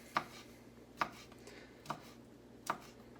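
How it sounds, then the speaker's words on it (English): A knife chops through quartered kielbasa and bratwurst on a cutting board in four sharp, evenly spaced strokes, close and clear over quiet room noise. "chop this down"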